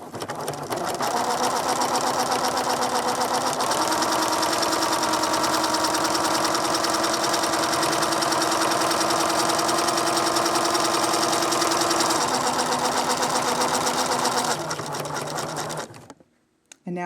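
A sewing machine stitches a quarter-inch seam on a quarter square triangle quilt block, a close, steady, fast mechanical whir and rattle running continuously for about fifteen seconds before slowing and stopping.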